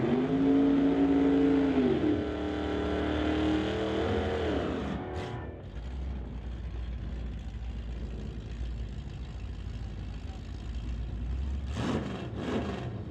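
A Hot Rod class drag racing car in an NHRA Summit ET Series race makes a solo run, its engine droning loudly and then fading down as it eases off at the top end, with a few brief sharp noises near the end.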